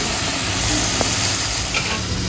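Meat and tomato fry in a pan with a steady, close sizzle and hiss, a few light stirring clinks coming through, no voices.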